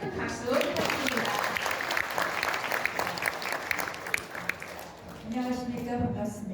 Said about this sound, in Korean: 의원이신 나경원 의원님께 큰 박수 부탁드립니다